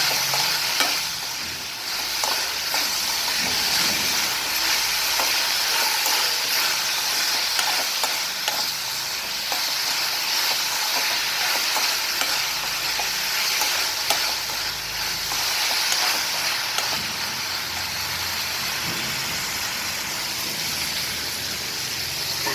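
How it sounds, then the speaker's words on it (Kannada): Food fries in a pan and is stirred, a dense continuous sizzle close by with frequent scraping and clinking strokes over about twenty seconds, steady and fairly loud, with no voices. "ಚೆನ್ನಾಗಿ ಇದನ್ನು ಸ್ವಲ್ಪ ಫ್ರೈ ಸಿಕ್ಬೇಕು. ಜಾಸ್ತಿ ಫ್ರೈ ಮಾಡಬೇಕು, ಸ್ವಲ್ಪ ಫ್ರೈ ಆಗಬೇಕು."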